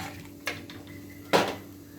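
A ground pumpkin skin mixture goes into a hot kadai, marked by two brief metallic clatters of utensil against pan over a quiet background.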